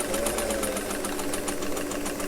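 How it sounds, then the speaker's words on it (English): A sewing machine runs a continuous stitch at a steady, rapid pulse, close and loud, stitching a 3/8-inch shirttail hem with no talk over it. "So I'm just going to run a stitch"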